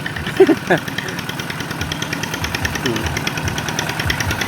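A modified farm tractor engine chugs and knocks at idle with a rapid, steady mechanical beat, while a person speaks briefly over it near the start.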